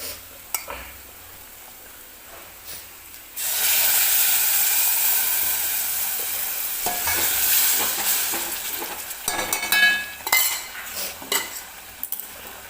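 Cooked toor dal tipped into oil-roasted spices in a pan, then a steady loud sizzle with wet stirring and scraping of a spoon against the pot, close and continuous before fading into intermittent stirring clatter.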